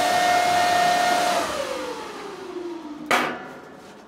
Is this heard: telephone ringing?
no